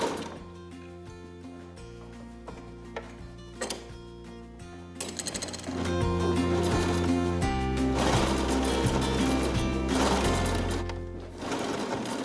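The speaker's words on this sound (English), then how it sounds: "Now I'll do the top stitching." A sewing machine runs top stitching in bursts, first a lighter rapid clatter, then a louder sustained mechanical whir with rhythmic needle thumps, pausing briefly before resuming, close and alone.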